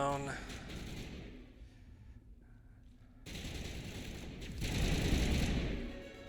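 Rifle gunfire in the video game Mass Effect, rapid bursts of automatic shots with a quieter gap between them, loud and dense, mixed with game sounds and a speaking voice.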